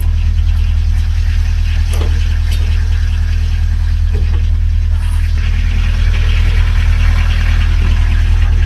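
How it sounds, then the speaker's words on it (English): A small water-cooled pony starter motor, started cold, idles loudly and steadily with a deep, constant rumble and a few faint knocks and clicks on top. "We've got the pony motor started, not the third time this season."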